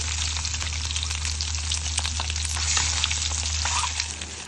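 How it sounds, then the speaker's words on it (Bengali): Eggs coated in turmeric and salt fry in hot oil, giving a steady, close, continuous sizzle and crackle with scattered pops and a low hum underneath, no voices. "এবার অল্প আছে তিন মিনিট মতো ভাজি করে নেব"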